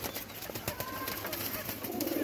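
Pigeons cooing in a loft of paired birds in Gujranwala, soft low coos blended into a dense, noisy background with constant rustling.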